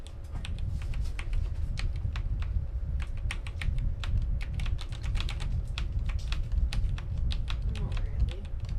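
Steady, rapid keystrokes on a computer keyboard while navigating a BIOS screen on a Ryzen 7 9800X3D PC, crisp clicks repeating throughout over a low constant hum.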